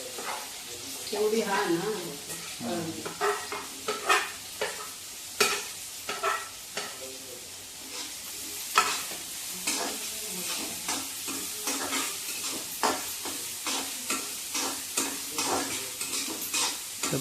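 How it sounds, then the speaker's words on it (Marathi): Onions fry in hot oil for a Marathi-style mushroom (alamb) bhaji, a steady sizzle broken by repeated stirring scrapes, with someone speaking briefly over the cooking. "तेल तापलं किंवा कांदो भाजून घ्यायचा"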